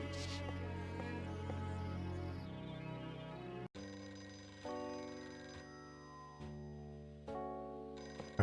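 A telephone rings inside the game Flower, Sun, and Rain, its repeated electronic trill layered over tonal game music and holding steady, fairly loud, throughout.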